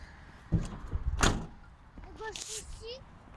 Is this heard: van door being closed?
yes